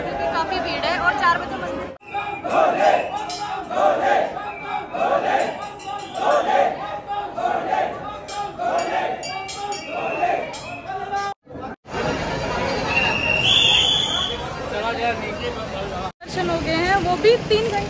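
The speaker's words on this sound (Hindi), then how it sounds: "बहुत जबरदस्त भीड़ है सावन के महीने में तो स्पेशली।" A dense crowd of pilgrims chatters at Omkareshwar temple during the Sawan month, with close, continuous babble and shouting, brief cuts, and rhythmic chanting swells in the first part.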